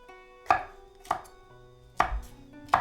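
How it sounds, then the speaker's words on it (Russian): A knife slicing bell pepper into strips on a cutting board, four distinct crisp chops spaced unevenly, close and clear with no talk. "болгарский перец можно порезать полосочками"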